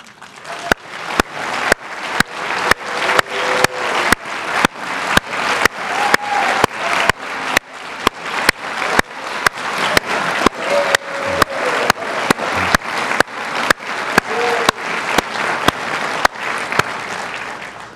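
Sustained applause from a university community audience at an address, dense and even clapping that carries on loudly for the full stretch with no talking over it.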